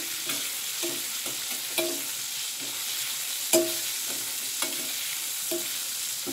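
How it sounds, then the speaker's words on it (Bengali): Chicken popcorn fries in a pan, cooked only to a light golden colour, with a steady close sizzle broken by sharp clicks and scrapes of stirring every second or so. "তো এইভাবে ভেজে নেব।"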